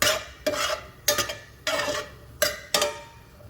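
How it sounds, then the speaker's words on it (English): Mushrooms and garlic are stirred in a pan with a utensil, giving six sharp scraping strokes against the metal in an uneven rhythm, close and clear over a faint background sizzle with no talking. "And just get it all stirred around."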